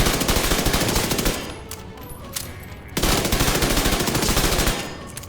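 Submachine gun fire in The Division 2, shown in two sustained full-auto bursts with a short quieter pause between them, loud and rapid with crisp shell-like clatter.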